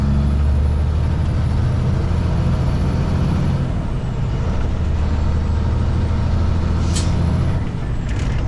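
Air brakes on a delivery truck, a loud hiss and release over the steady low drone of the heavy engine, heard from inside the cab on a road in the Pilbara.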